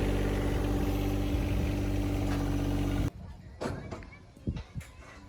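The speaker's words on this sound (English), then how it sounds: "You drive this tractor to Jack's" A tractor engine idles loudly and steadily with a low, throbbing drone, then cuts off abruptly, leaving faint scattered noises.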